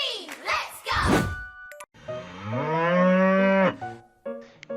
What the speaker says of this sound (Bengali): কাউ মানে গরু।